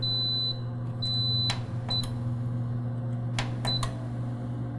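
Several high electronic beeps from an Instant Pot Omni Plus oven, short and long tones spaced irregularly over a low steady fan hum.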